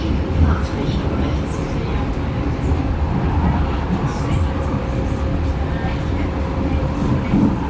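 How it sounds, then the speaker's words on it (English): Steady rumble of a German U-Bahn subway train running on its tracks, a continuous loud low roar with faint rattling throughout. "this is my first ride on a German U-Bahn system"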